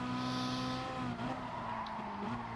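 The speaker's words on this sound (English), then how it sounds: "Braked a little bit too late for the corner there." Racing video game car at Autodrome Lago Maggiore brakes late into a corner, a steady engine drone with a brief tyre squeal and skid, alone without talk.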